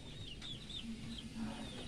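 Faint clucking from chickens some distance away, soft and intermittent over a quiet outdoor background.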